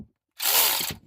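A brief burst of a power tool or ratchet tightening a bolt on a Chevy truck, a single whirring buzz of about half a second after a short silence.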